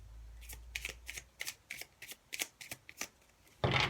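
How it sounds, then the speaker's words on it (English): Tarot cards are shuffled close by in a series of quick, crisp riffles, about a dozen brief bursts, ending in a louder sustained ruffle. "Shuffling a bit strange."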